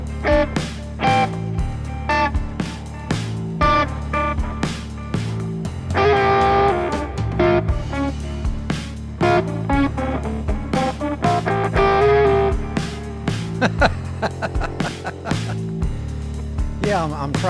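Electric guitar played through a ring modulator set to mimic old AT&T fax machine tones, producing harsh, metallic, distorted notes in rapid choppy bursts, loud and alone throughout.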